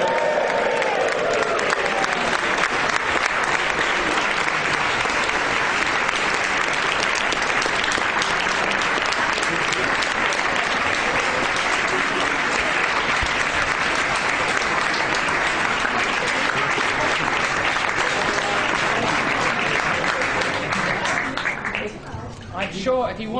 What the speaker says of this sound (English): raise your glasses, cheer Andre and Kostya